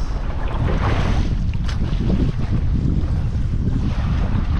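Strong wind buffets the microphone continuously, a loud roaring rush with water sloshing underneath and no voices.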